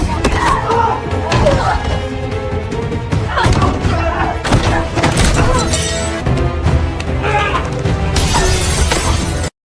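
Glass smashing in a fight scene in a film, dense and loud crashes and thuds over a continuous music and effects bed, with voices mixed in.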